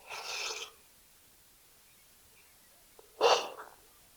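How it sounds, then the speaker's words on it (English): A man yawning during an 8-ball pool league match: a soft breathy exhale, a pause of quiet, then a louder, voiced, drawn-out yawn. "Customary yawn, guys."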